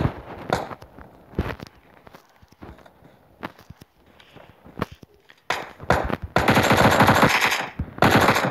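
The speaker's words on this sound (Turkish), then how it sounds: "Çünkü Thompson'la vurmuş." Thompson submachine gun bursts in a video game, loud rapid automatic fire in several short volleys, with footstep sounds and quieter gaps in between and a long sustained burst near the end.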